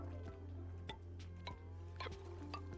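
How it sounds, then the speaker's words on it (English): Water is poured in the video game Oxygen Not Included, giving soft dripping and liquid fill sounds with light clinks and ticks at a quiet level over a steady low background tone. "So I'm going to pour some water in here."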